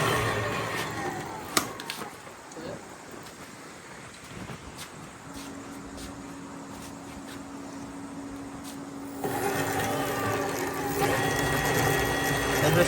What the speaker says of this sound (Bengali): এটা মোটরের আওয়াজ।